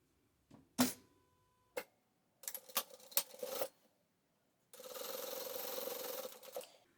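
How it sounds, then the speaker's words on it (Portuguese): A sewing machine stitching fabric for a patchwork coaster, a few sharp clicks and short bursts of sewing, then a longer steady run of stitching at close range. "quando a gente tá costurando, a gente não puxar o tecido. Deixa a máquina puxar o seu tecido."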